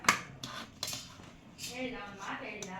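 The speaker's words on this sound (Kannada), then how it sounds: "ಚೆನ್ನಾಗಿ ಮಿಕ್ಸ್ ಮಾಡ್ತಿದ್ದಾರಮ್ಮ ಈಗ." A spoon stirs freshly cooked vegetable pulao in a metal pressure cooker, giving several sharp, close metallic clinks and scrapes at an uneven rhythm.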